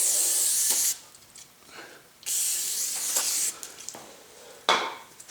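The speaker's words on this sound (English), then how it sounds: "Just gonna spray the backside with some brake clean." Brake cleaner sprays onto the backside of a new 15-inch Brembo brake rotor for an S550 Mustang Performance Package, in three loud, close hissing bursts of about one second each, separated by quieter gaps with faint handling clatter.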